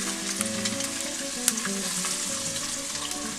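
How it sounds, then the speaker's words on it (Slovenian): Mackerel fillets dusted in flour fry in hot oil, a steady close sizzle with bright popping crackles and one sharp spit near the middle, no voices. "tele sfilirane skušice in ušate sem malo povalil v mokci in tlele na vroč olje lepo, se na brzinco samo takole malo pečejo"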